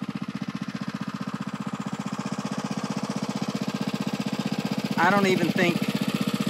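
A small gasoline engine on a 2-inch trash pump runs steadily with a fast, even pulsing drone, loud and close, while a person speaks briefly near the end.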